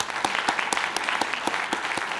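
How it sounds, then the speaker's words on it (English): An audience at an event on fighting hunger gives a steady round of applause, dense hand-clapping filling the room without a break and no voice rising above it. "Let's give you a big round of applause."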